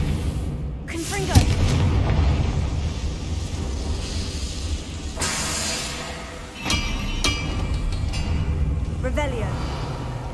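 A fiery spell blast from the video game Hogwarts Legacy booms amid continuous loud game rumble and effects, with further impacts partway through.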